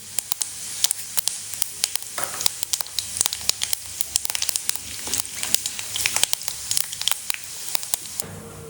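Cumin and mustard seeds sizzle in hot oil in a pan for a Karnataka-style kabul kadale usli. The oil hisses loudly and continuously, with sharp crackles and pops scattered throughout.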